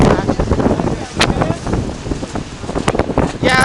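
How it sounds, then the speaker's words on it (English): Strong, hurricane-like wind buffets the microphone in gusty bursts, loud and close, with people talking over it. "Yeah, okay, basically we're in a hurricane."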